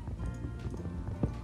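Horse hooves clip-clop in Minecraft, a quick run of faint, rhythmic game footfalls lasting just over a second.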